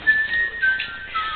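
Short, thin whistling from a person trying to whistle, a few faltering breathy tones close up, uneven and weak.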